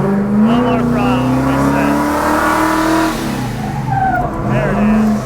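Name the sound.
car engine revving while drifting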